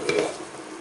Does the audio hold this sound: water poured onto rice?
no